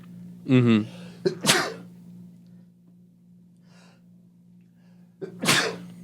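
A single sharp sneeze bursts out near the mic, preceded by a quick voiced intake and followed by a short exhale, over a steady low hum.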